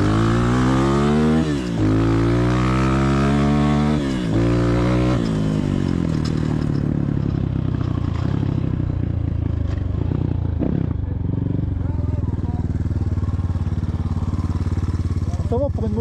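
A new ERZ PRO 2022 motorcycle, fresh out of the box with an untouched carburetor, revs loudly up close in several rising bursts, then settles into a steady rough running drone, tested outdoors on terrain.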